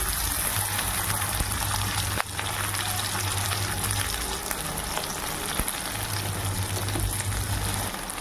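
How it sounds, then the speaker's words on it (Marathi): Cut cluster beans (guar) frying in hot oil, a steady dense sizzle and bubbling hiss that runs continuously and loud throughout, close up, with no talking. "आता आपण पहिली गवार आपली जी कापून घेतलेली आहे ती फ्राय करून घ्यायची आपल्याला।"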